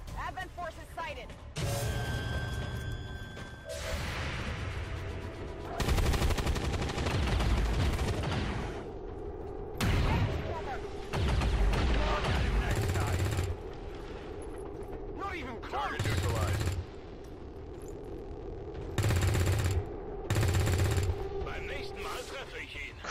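Repeated bursts of soldiers' gunfire in the video game XCOM 2 during a VIP rescue in a rioting city, loud volleys of several shots each over a steady game background hum, with someone talking between and over them.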